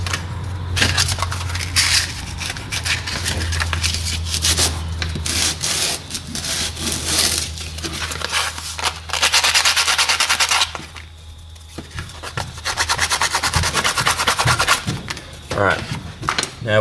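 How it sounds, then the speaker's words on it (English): Sandpaper rubbing over small cut-out shapes for a homemade dual-action hidden blade, a steady scratchy rasp with pauses and a low hum running beneath much of it. "give them a sand just so there's no rough corners on there"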